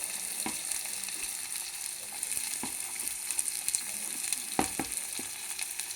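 Onions, green chillies and ginger-garlic paste fry in a pan for a moong dal curry, giving a steady close hiss and crackle with scattered sharp pops and light stirring scrapes, no talk.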